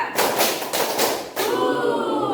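Students in a vocational school classroom clap together in a counted rhythm, about four loud, close group claps spaced evenly before the room settles into murmuring.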